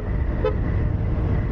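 A Yamaha Fazzio scooter horn, its button wet from rain, gives one brief weak toot. It is heard over steady road and engine noise while riding.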